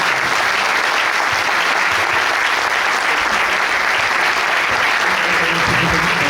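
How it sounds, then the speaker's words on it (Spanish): A crowd at a football memorial event for La Romareda gives three historic goalkeepers a loud, sustained round of applause, thick and even clapping throughout with no pauses. "Un fuerte aplauso para ellos."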